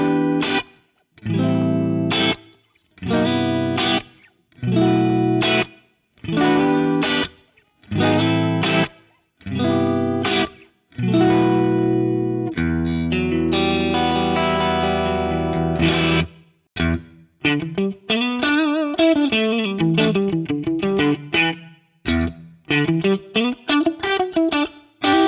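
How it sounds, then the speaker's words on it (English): Electric guitar run through a Lexicon PCM81 rack unit with chorus feeding into reverb: repeated strummed chords in short bursts, then a sustained wash and a fast shimmering lead passage, loud and close with no voices. "Let's hear chorus into reverb."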